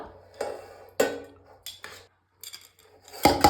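Serving spoons and utensils clink and tap against plates and pots as home-cooked food is dished out. Bright, sharp clatters come in separate bursts with short quiet gaps, close by and without voices.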